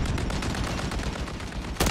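Extremely fast Striker SMG fire in a shooter game, a continuous rattling burst of tightly packed shots, loud and close, with a sharp new report right at the end.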